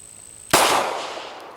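A single loud handgun shot cracks sharply, fired close by, then its echo decays over about a second with no talk.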